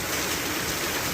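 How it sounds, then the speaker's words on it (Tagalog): Heavy rain pours down during electrical line work, a dense, loud, unbroken roar of falling water that fills the whole brief moment with no voices. "lakas ng ulan"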